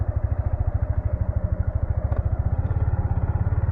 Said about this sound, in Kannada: ಇವಾಗ ನಾವು ರೈಡ್ ಮಾಡೋಣ ಗಾಡಿನ.